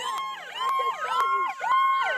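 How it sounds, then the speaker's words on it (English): Several overlapping police sirens wail and yelp loudly and nearby, rising and falling in quick repeating sweeps. "Man, shut those sirens off."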